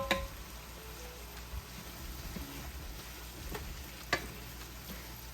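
Ingredients for a chicken spaghetti bake sauté together in a pan with a steady, fairly quiet sizzle and occasional stirring clicks and taps, no voices.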